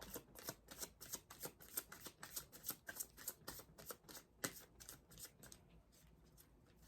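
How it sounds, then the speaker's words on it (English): Tarot cards shuffled in a rapid riffling run of crisp, papery flutters, steady for several seconds and then thinning out, close and fairly quiet with no talking. "I don't know why I always fucking shuffle like that."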